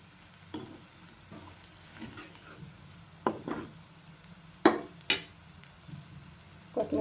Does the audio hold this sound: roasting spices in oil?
yes